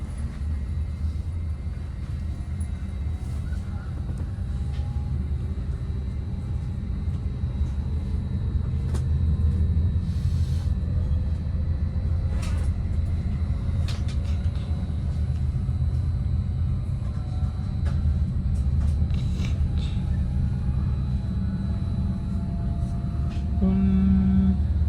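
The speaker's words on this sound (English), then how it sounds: "Here we are pulling out of Millbrae Station with our next stop being San Mateo" Southbound Caltrain express commuter train pulling out of Millbrae Station, heard from on board: a steady deep rumble of the train gathering speed, with faint rising motor tones and occasional rattles and clanks.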